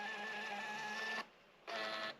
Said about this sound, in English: I'm just going to make sure it's working right, the printer, because this is my Fomamo Bluetooth printer